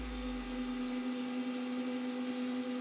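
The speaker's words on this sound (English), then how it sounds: "I mean, this printer is pretty quiet. Listen to this." An Artillery 3D printer, bought as a returned unit, hums steadily with a constant tonal drone and faint whir, running alone at a quiet, even level.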